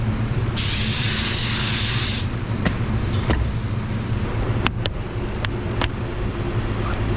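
A spray gun applies a metallic black PPG waterborne base coat in one loud, close hissing burst lasting about two seconds, followed by a few sharp clicks against background hum.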